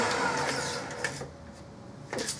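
A 10-inch chop saw in a chop box cuts through a wood piece for a double-sided door tag, giving a steady, loud motor whine with blade noise that runs for a couple of seconds before easing off.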